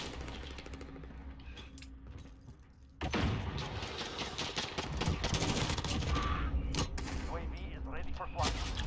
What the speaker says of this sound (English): Oh man, I'm getting shot at. Oh, someone's lighting me up.